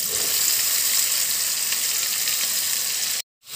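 Raw mango pieces frying in hot refined oil with panch phoron, a dense, close, continuous sizzle that stops abruptly near the end.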